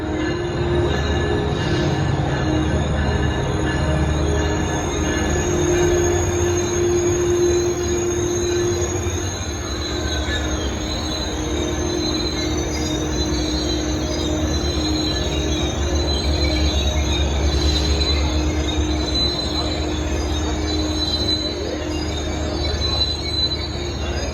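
A Metrolink commuter train on the San Bernardino Line rumbles in with loud, sustained metallic wheel squealing and grinding, continuous and close, with no talking.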